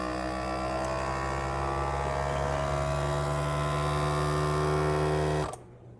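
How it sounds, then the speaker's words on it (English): A FoodSaver MKT571 vacuum sealer pump draws the air out of a jar with a steady, droning motor hum for about five seconds, then shuts off abruptly. "We're going to activate it with vacuum."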